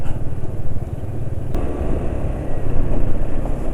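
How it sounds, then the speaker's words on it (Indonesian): A motorcycle engine running rough at low RPM after an oil change to Petronas Urania 3000 15W40, a loud, close, uneven rumbling idle with a lumpy pulsing beat and a single sharp tick midway. "pemakaian 2 km tapi kok suara mesin sudah kasar ya"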